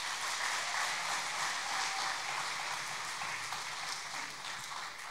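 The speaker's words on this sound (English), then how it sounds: "I think they deserve one more round of applause" An audience at a school sports awards ceremony gives the band another round of applause, steady massed clapping that holds for the full stretch and fades slightly toward the end.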